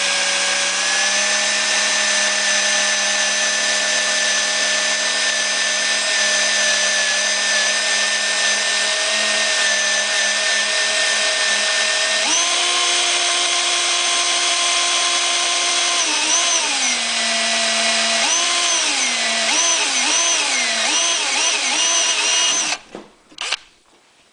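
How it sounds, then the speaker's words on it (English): A power drill bores 1/8 inch holes while installing a fuel kit on a Honda EU6500is generator, whining loudly and steadily, its pitch wavering as it bites, then cutting off with a few clunks. "You'll take a drill and drill a 1/8 inch hole"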